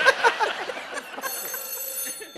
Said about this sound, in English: Henry, answer your phone.